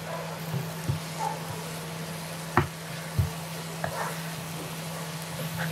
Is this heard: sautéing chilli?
yes